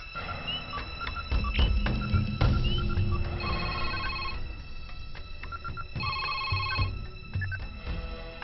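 A telephone bell rings in repeated bursts, fairly close and clear over a steady low background hum, with no talking.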